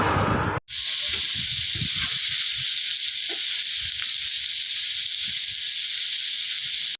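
Fish frying on a tawa griddle at a roadside shop, a loud, steady sizzling hiss throughout with faint clatter and background noise beneath.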